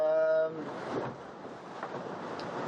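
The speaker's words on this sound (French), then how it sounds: "Voilà l'ambiance dans le cockpit." Wind and waves heard from the cockpit of a sailboat racing at sea, a broad rushing wash of wind noise and water, fairly loud and continuous after a brief tonal sound at the start.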